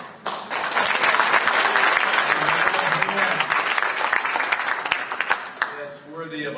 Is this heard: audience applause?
yes